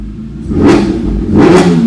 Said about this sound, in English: And that is with the valves open and the intake